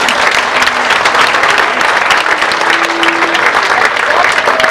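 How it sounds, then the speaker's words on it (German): Loud, dense applause from a large crowd at a metal festival goes on without a break, with clapping close and constant throughout and a few voices mixed in. "Auch nochmal ein Dankeschön und einen großen Applaus."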